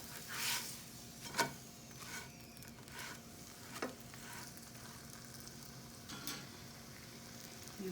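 Chicken paratha frying in a pan with a soft, steady sizzle, broken by a few sharp spatters and clicks of handling, close and fairly quiet, with no speech.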